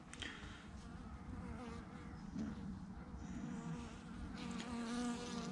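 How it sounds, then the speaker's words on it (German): A honeybee buzzes steadily at close range during a November hive inspection, a continuous droning hum that carries on without pause against faint background noise. "Dann ist die Biene weggeflogen."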